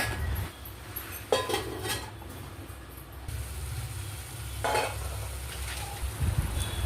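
Onions stirred in a pan with turmeric and salt while cooking paneer butter masala, with a soft steady sizzle and occasional scraping and clinking of a spoon against the pan, no voices.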